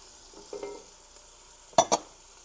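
Two soft stirring scrapes early on, followed by two sharper close knocks of a utensil against the pan while green onion and green pepper cook over medium-low heat for okra stew; quiet background, no talking.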